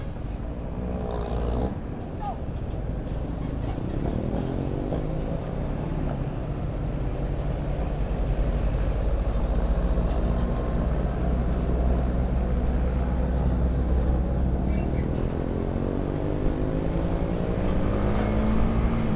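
A Honda CBR150R motorcycle engine revs up steadily on a ride, its pitch climbing through gear changes, loud and continuous with road and wind noise.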